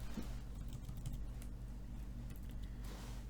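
Quiet typing on a computer keyboard while working in Grasshopper, a few soft clicks scattered over a low steady hum, with no voices.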